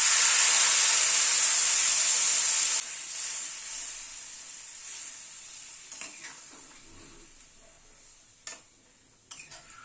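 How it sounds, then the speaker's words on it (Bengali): Hot water poured into a pan of sizzling egg and potato curry, a loud hiss that drops sharply after a few seconds into softer bubbling with scattered ticks and clinks. "এবার গরম জল দিয়ে দিচ্ছি"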